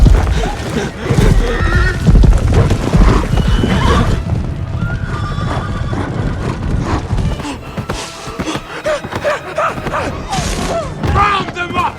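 Horses whinnying loudly over heavy galloping hooves and thuds in a chaotic chase scene, with shouting voices mixed in, and the pounding easing toward the end.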